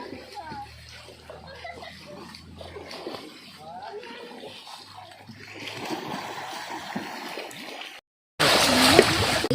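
Water splashes and sloshes as laundry is washed in a stream, close and irregular, with voices chattering over it and the splashing growing louder and busier toward the end.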